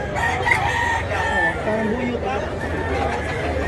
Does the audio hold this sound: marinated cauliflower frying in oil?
no